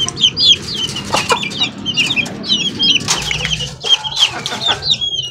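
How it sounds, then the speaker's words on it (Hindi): Hens on a goat farm cluck busily and repeatedly while feeding, close by and loud, with overlapping calls from several birds and faint rustling. "ये मुर्गी खाना खा ले जल्दी से तो फिर इसको बंद कर देंगे"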